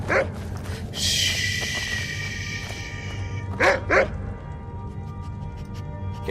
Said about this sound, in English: please stop barking at me